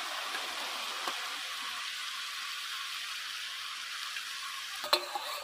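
Shrimp sizzling in a frying pan with spring onions, a steady broadband hiss of hot oil holding evenly throughout, with a brief clatter near the end.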